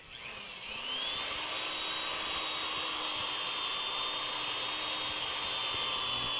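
A powered wood sander runs at its lowest speed, a steady continuous whine that ramps up briefly at the start and then holds an even pitch throughout, close and alone without talk.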